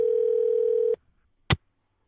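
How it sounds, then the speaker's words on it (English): A single steady electronic telephone ringing tone on a live radio call holds for about a second and cuts off, followed by a brief sharp click after a short silence. "Ringing."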